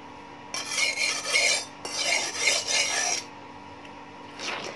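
Rough grinding of a hand-forged knife blade made from an old car leaf spring, two long harsh rasping strokes in a row and a faint third starting at the end, close up with no talk.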